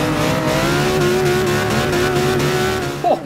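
A V10 Hot Wheels Mustang in Forza Motorsport 6 holds a loud, steady high-revving engine note pinned at the rev limiter, close and sustained, ending with a brief jolt near the end.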